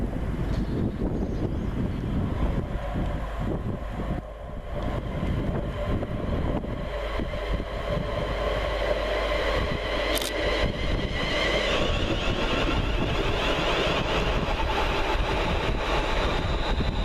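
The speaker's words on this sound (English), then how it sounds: "350-369, working the 1243 West Midlands Railway service from Rugeley-Trent Valley to" A West Midlands Railway Class 350 electric unit, 350-369, runs through Bloxwich station on a Rugeley Trent Valley to Birmingham International service, a loud, sustained roar of wheels and rushing air lasting many seconds that holds steady throughout.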